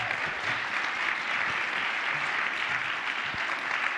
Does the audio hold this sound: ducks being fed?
no